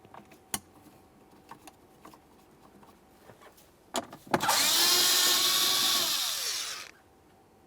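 Powered driver removing a 7mm headed mounting screw under the glove box of a 2013-2020 Ford Fusion, a steady close whir lasting about two and a half seconds after a few faint clicks, then stopping.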